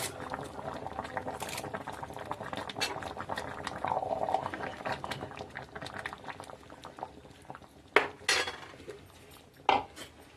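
A pot of Kerala-style puzhukku bubbles and simmers while a spoon stirs it, with a few sharp metallic clinks of the utensil against the pot near the end.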